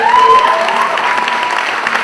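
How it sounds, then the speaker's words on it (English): Audience applause at a tribute concert and fundraiser: a brief, steady burst of many hands clapping close by, with crowd noise and a few voices mixed in. "So if we have a round of applause for everyone who's donated."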